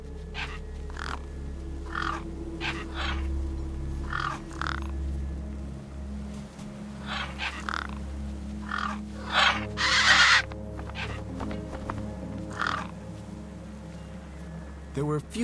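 Gang birds in the video game Beyond a Steel Sky caw in short repeated bursts over a steady low ambient hum, with one louder cluster of calls standing out midway.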